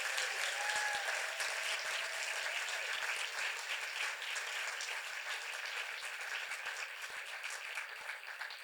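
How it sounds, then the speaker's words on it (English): Audience applause at a PechaKucha Night in Burlington, steady and sustained for the full stretch, a dense even wash of clapping that tapers slightly toward the end. "A round of applause for all 10 of our presenters"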